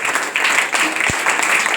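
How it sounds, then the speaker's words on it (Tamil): An audience claps steadily and loudly throughout at a summer camp ceremony, dense continuous applause filling the space. "நிறைய கைத்தட்டல் கொடுக்குறேங்க."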